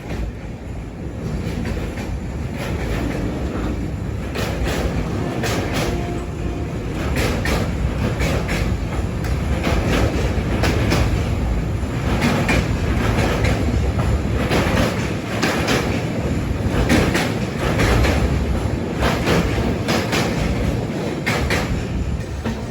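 The Netravati Express sleeper train, running from LTT to Tiruvananthapuram Central, rolls along the track with a loud, continuous rumble and rhythmic wheel clatter heard close from inside the coach.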